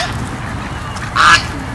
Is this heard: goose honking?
yes